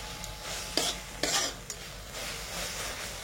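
Spoon stirring kulekhara leaves and brinjal chochori in a hot pan, with a steady sizzle and a few sharp scraping clacks of utensil against metal close by.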